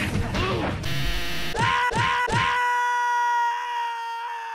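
Rainbow Friends video game monsters let out loud, harsh screams and groans, with several crashing hits in quick succession before a sustained synthetic tone rings out alone.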